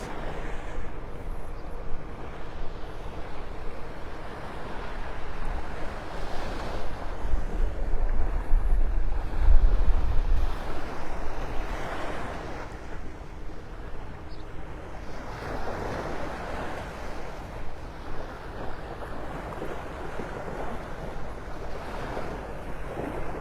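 Ocean surf rolls in at Vanderbilt Beach in North Naples, Florida, a continuous wash of breaking waves swelling and receding, with wind buffeting the microphone and a stronger gust partway through.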